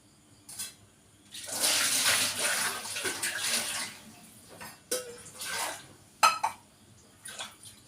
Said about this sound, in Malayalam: കൈയൊന്ന് നനയ്ക്കാനായിട്ട് കുറച്ച് വെള്ളം വേണം.